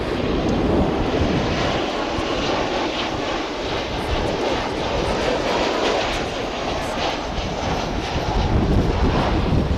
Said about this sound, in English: Simultaneous landing and takeoff there.